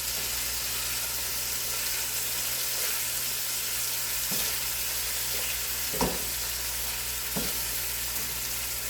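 Pork pieces brown in a pan for stew with a constant close sizzle, and a utensil scrapes and knocks the pan a few times.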